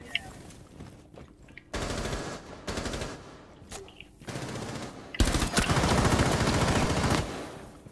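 Gunfire in a video game comes as several loud automatic bursts of varying length, the longest near the end, with quieter stretches between them.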